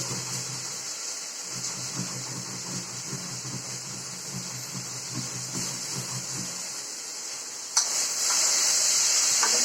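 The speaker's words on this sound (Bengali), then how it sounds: "আমার আলুটাও ফ্রাই হয়ে যাচ্ছে" Potatoes frying in a pan make a steady, hissing sizzle with faint stirring, then a sharp burst near the end as the frying swells louder and brighter.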